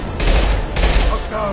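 Rifle fire in the video game Mass Effect 2, two loud bursts of rapid shots close by, separated by a brief gap, with faint game sounds after.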